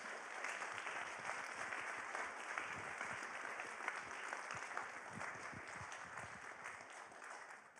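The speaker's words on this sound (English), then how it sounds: "one more round of applause and we'll call it a night" Audience applause at the close of a public health college livestream event, a steady wash of many hands clapping at moderate distance, fairly quiet and sustained throughout with no talk over it.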